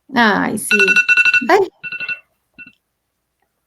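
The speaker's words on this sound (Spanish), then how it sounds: "Esa era mi alarma." A phone alarm rings with bright repeating electronic tones at an event panel, overlapping a voice and stopping abruptly partway through, followed by brief silence.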